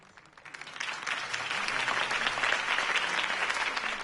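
Crowd applause for Harvey Dent's campaign speech in Batman: The Telltale Series, starting light, then swelling into steady, dense clapping that holds at full strength to the end.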